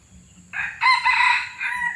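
One hybrid junglefowl rooster, a flock leader, crows loudly nearby, a shrill rising then sustained call that tapers off, with a soft low hum underneath.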